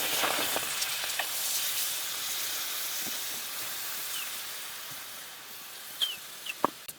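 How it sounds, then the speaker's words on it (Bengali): Date palm jaggery hits a hot wok to make syrup, giving a soft, steady sizzle and hiss throughout, with a few light clicks near the end. "এই গুড় দিয়ে একটা শিরা তৈরি করে নেব গুড়টা দিয়ে দিচ্ছি কড়াইতে"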